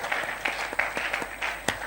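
Church congregation applauding and clapping together during a worship service, a scattered run of sharp claps at moderate distance with faint voices behind.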